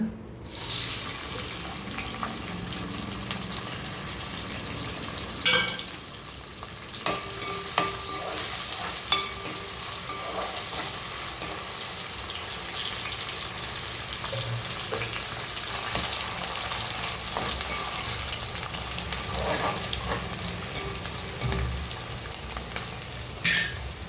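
Green chillies and onions fry in hot oil with a steady, close sizzle throughout, broken by occasional stirring knocks and scrapes, with no talking.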